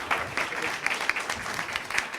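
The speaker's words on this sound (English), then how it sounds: "So I want to have a round of applause for the Media Camp folks for putting us on" A demo day audience in San Francisco gives a short burst of steady applause, with dense, even clapping from a fair-sized crowd.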